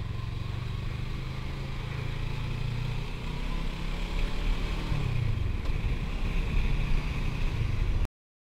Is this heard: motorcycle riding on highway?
yes